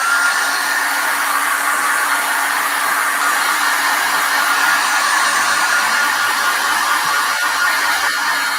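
A hair dryer drying paint on a craft project blows a steady, loud, close broadband whoosh that holds unchanged throughout with no voices.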